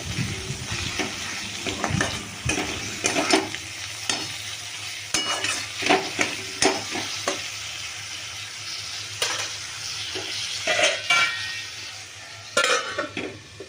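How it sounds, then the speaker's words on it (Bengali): Masala of ground coriander, cumin and ginger paste sizzles in a pan while a spoon stirs and scrapes it in repeated bursts, with metal clinks against the pot, close and moderately loud, no voices. "ধনে গুঁড়ো জিরে গুঁড়ো আদা বাটা দিয়ে এবার এটাকে ভালো করে মশলাটাকে কষাতে থাকবো"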